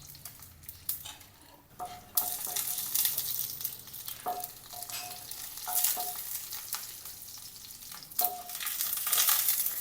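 Mustard seeds and urad dal fry in hot oil in a pan with a steady, close sizzle, broken by sharp pops and a few clinks of a spoon against the metal.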